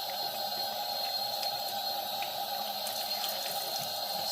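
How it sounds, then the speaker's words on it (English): Dirty clothes are rinsed in water during an Arizona Trail hike, a continuous splashing, trickling wash with faint drips, close and steady throughout. "Otherwise, you are washing all your clothes in dirt water, soapy dirt water."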